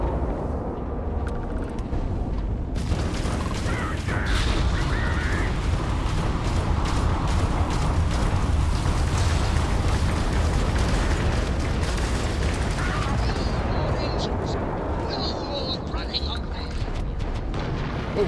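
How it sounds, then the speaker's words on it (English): A missile launching and exploding in a space battle video game: a sustained loud roaring, rumbling blast layered with crackling bursts and mechanical effects, continuous through the clip with a few brighter tonal game sounds. "Alright, missile away."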